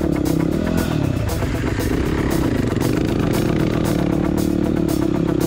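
Dirt bikes, including a Yamaha WR250R, KTM and Kawasaki, rev hard and close on a high country mountain track, engines droning and pulsing continuously with rhythmic throttle bursts and rattling.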